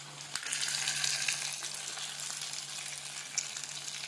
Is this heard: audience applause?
no